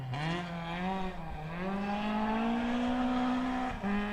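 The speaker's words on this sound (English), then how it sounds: "this sounds like a Ford Escort Mark II" A Ford Escort Mark II rally car on a special stage of the 2019 Otago Rally in Dunedin, its engine revving loud and close with rising and falling pitch, a brief lift off the throttle partway through, no talk.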